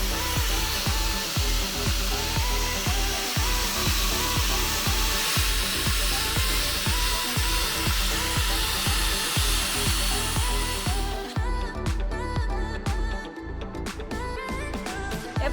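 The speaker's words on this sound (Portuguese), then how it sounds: "eu só lixei aqui pra tirar aquelas camadas de tinta que tava com ferrugem" Power sander grinding rusty old paint layers off the large brake drum of a Mitsubishi L200 Triton pickup truck, a loud continuous abrasive whir with rhythmic pulsing throughout that changes tone near the end, no voices.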